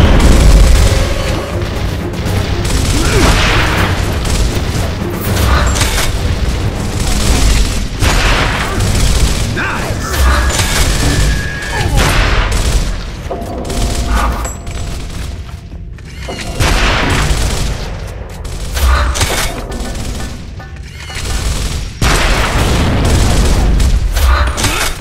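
Heavy, continuous battle din from Gears of War, with booming frag grenade blasts and gunfire rolling over one another at high volume and barely letting up, with brief dips in between.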